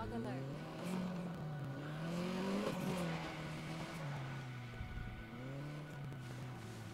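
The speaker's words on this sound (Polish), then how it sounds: "ładnie się odpaliło, silniczek" In the video game Need for Speed: Most Wanted, a car engine comes to life and revs in rising and falling swells, loud and close, while someone talks over it.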